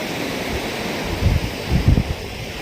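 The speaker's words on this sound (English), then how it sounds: "That's the Arabian Sea." Arabian Sea waves breaking below a fort, heard from a height as a low, broad wash of surf with a few soft swells under steady wind noise.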